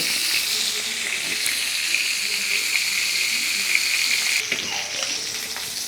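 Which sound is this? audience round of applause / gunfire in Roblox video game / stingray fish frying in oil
stingray fish frying in oil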